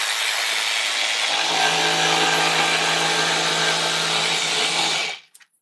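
A jigsaw cuts through wood with a loud, steady, buzzing whine that holds evenly for about five seconds, then stops abruptly, followed by a few small knocks.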